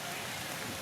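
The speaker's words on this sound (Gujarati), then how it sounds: "વરસાદ બહુ છે, આગળ વરસાદ છે માસી? વરસાદ તો બહુ છે." Heavy rain outdoors at a park, a dense, even hiss of drops on surfaces filling a brief moment, loud and continuous with no pauses.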